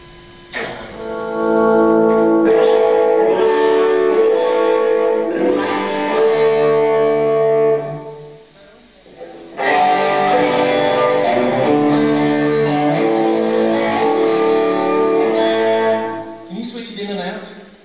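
Electric guitar chords ring out through delays set to a chorus effect, shimmering and swirling, played in two long phrases separated by a brief pause.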